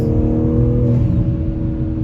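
Intake sound of a BMW G82 M4 fitted with catted downpipes, cruising at 70 mph in fifth gear, heard from inside: a steady low drone with a faint whir above it and a quiet exhaust.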